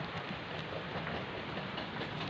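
Steady rain hisses continuously at low volume, a soft even wash of drops with no voices over it.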